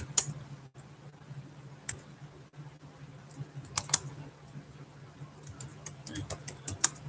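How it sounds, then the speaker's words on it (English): Computer keyboard typing during a music and games livestream, sparse soft clicks early then a denser run of sharper keystrokes near the end, fairly faint with a steady low hum underneath. "I'm also going to type it in the comments"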